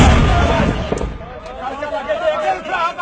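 Mortar fire by the Pakistani army: a single heavy, booming blast opens and decays into a rumbling tail, while soldiers' voices chatter and shout nearby.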